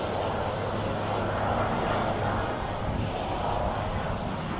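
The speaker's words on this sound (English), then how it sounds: "that looks like one of the Air Force One helicopters there" A helicopter passing overhead above the monuments in Washington, DC, heard as a steady, loud broadband rotor and engine roar with a low hum, continuous throughout and fairly close.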